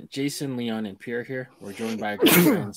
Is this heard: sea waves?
no